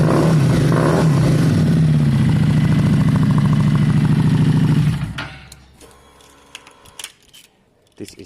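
A Suzuki Bandit 600 motorcycle engine revs hard and loud close by for several seconds, then cuts off abruptly, leaving quiet with faint scattered clicks and knocks.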